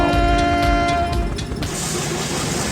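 A train rumbles steadily close by, with a sustained horn tone at the start that cuts off, leaving a broad rushing, clattering roar.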